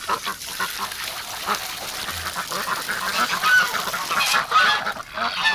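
A flock of ducks kept in winter honks and quacks steadily up close, the clamor swelling toward the end with a few sharper calls.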